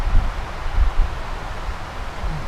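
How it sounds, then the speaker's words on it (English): Strong wind in Northern Algonquin Park buffets the microphone in heavy low gusts, with a constant rushing roar and no voices. "I don't know if you can hear us over all this wind."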